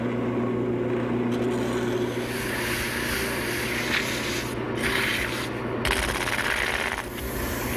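A wooden table leg is sanded smooth while spinning on a lathe, a continuous loud abrasive rushing over the lathe's steady drone, with a few brief pauses and shifts in pressure.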